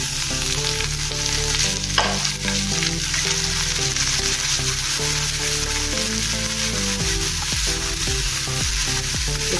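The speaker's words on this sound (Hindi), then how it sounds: "प्याज और हरी मिर्च डालेंगे।" Onion and green chili frying in hot oil with cumin seeds, a steady close sizzle running throughout with no talk, a brief stir or clatter near the start.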